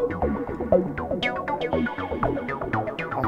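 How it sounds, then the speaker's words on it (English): A Behringer DeepMind12 synthesizer arpeggiator on hold plays a fast, steady run of plucky notes rising and falling in a repeating pattern, loud and alone. "this is using the arpeggiator on hold."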